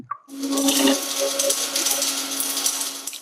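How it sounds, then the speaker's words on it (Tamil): A small electric grinder whirs steadily for about three seconds, pulverizing a roasted asafoetida lump into powder, with a constant hum and rattling hard bits inside. "உரித்த பெருங்காயத்தை பொடி பண்ணிக்கிறேன்"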